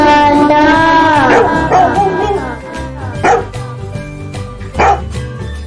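Barks sit within a children's phonics song, a few loud yips and woofs spaced over several seconds against a tonal, musical background.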